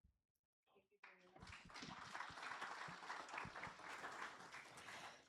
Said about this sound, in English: A round of applause again for our panelists